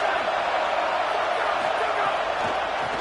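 A packed college football stadium crowd roars in a steady, loud wall of noise aimed at the opposing offense.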